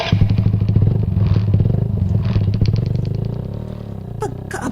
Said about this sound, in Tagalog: Pandaron ko nagpalik ni motor.